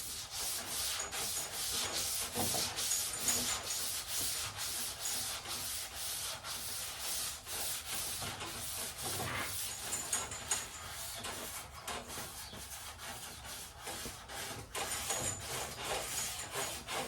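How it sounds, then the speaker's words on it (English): Steady rhythmic sanding rubs back and forth over a 1972 VW Super Beetle car door, close and continuous, with quick repeated strokes and no talking. "This is sanding really nice today."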